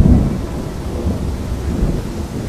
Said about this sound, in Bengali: তুফান শুরু হয়ে গেল।